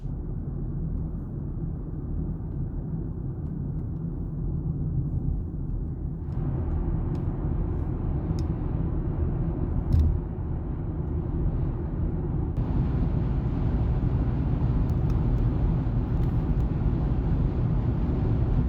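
Steady low road roar inside a BMW X3 xDrive20d cabin on winter tyres, with non-acoustic standard glass, a broad even rumble that holds constant and brightens slightly in two steps as speed builds, with no talk.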